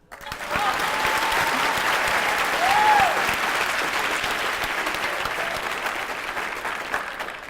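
A homecoming coronation audience applauds steadily throughout, a dense, sustained roar of clapping from a large crowd that swells slightly partway through and then holds on.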